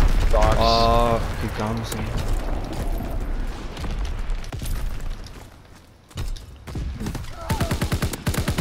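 Rapid gunfire in a World War II shooter game, with dense crackling shots and rumbling bursts and a fast rattling volley near the end, all under frequent voice chat.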